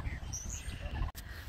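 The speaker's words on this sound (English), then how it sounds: "Swans." Swans call outdoors, a few thin honking and chirping notes over a low, steady background rumble, fairly faint and interrupted by a brief handling click.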